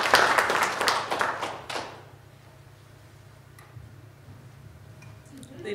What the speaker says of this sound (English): So please give me a nice round of applause for Elisa Swindell.